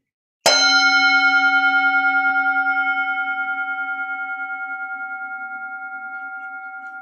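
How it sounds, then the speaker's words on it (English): A single bell struck once at a board meeting livestream, a bright clang followed by a long, clear ringing tone that slowly fades over several seconds with nothing else heard. "Ringing of the bell, Tom."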